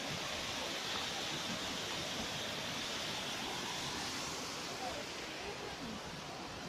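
A waterfall rushes as a loud, continuous broadband roar on a rainy forest trail, steady and close throughout, with a voice briefly heard over it.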